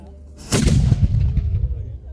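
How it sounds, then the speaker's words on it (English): A historic cannon fires at Fort George with a single loud, close boom that rolls on and fades over about a second and a half, with faint crowd murmur around it. "Second cannon's fire. And this will fire almost immediately"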